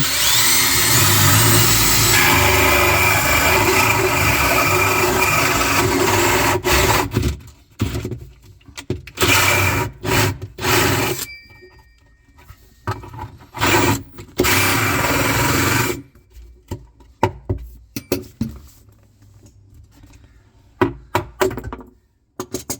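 A power drill whirs steadily for several seconds drilling a hole in a cabinet, then cuts in and out in short bursts with brief pauses, close by.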